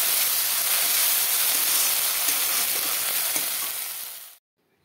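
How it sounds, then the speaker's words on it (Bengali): Chili and spices frying in a pan for a Bengali small-fish and tomato curry, a loud, close, continuous sizzle and hiss that runs steadily before cutting off abruptly near the end. "মরিচটা একটু ভেজে নিই, মশলাটা।"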